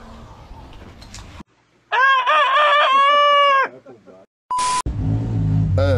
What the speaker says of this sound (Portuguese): vocês escutaram o galo cantar.